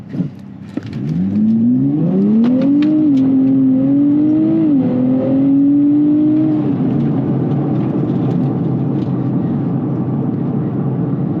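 Loud Nissan Z NISMO engine revs up with rising pitch, briefly dips at a quick automatic gear change, climbs again, then settles into a steady roaring drone.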